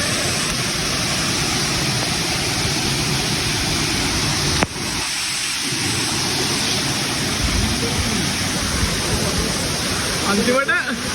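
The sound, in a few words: Dunhinda waterfall rushing water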